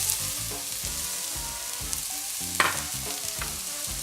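A whole onion sizzling in about a tablespoon of olive oil in a casserole pot, a continuous close frying hiss with light clinks and stirring scrapes throughout.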